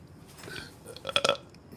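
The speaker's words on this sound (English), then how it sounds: "Can you try to burp on command?" A short, fairly quiet burp forced on command, a brief croaky eructation lasting about a second.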